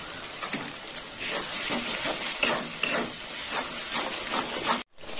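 Spice paste for Kashmiri chicken fries in a pan with ground coriander and salt, giving a steady close hiss and sizzle broken by soft stirring scrapes, then cutting out briefly near the end.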